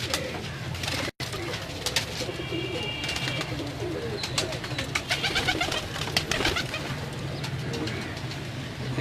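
Salara teddy pigeons coo steadily and close by in a loft, with soft overlapping calls and a little background noise throughout.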